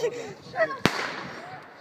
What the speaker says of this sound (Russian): Тут обычные петардочки.